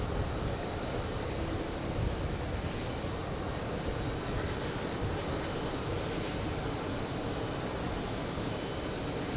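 A CRJ regional jet pushing back at JFK gives a steady, distant engine drone with broadband roar, constant in level and no voices over it.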